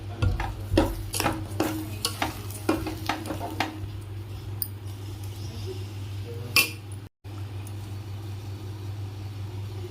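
Semolina and sugar being stirred in a pan, a spoon scraping and knocking repeatedly against the metal in quick strokes, heavier at first, over a low steady hum, with one brief dropout near the end.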